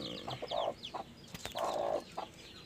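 Newly hatched chicks in a chicken coop give a run of high, quick peeps in short bursts, with lower clucking mixed in nearby.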